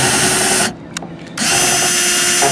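A power drill whines loudly and steadily while drilling pilot holes in an RV roof for a Fantastic Fan upgrade, stopping briefly in the middle and then starting again, with no talk.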